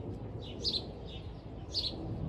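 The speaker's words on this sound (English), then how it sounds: "Those birds are just beautiful." Birds sing in short bright chirping bursts, two distinct phrases about a second apart, fairly close over a steady low background rumble.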